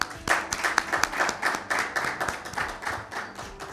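An audience at a mushaira applauds to welcome the presiding poet to the stage. The clapping is dense, steady and nearby, with a fairly even rhythm through the short clip, and no voices can be heard over it.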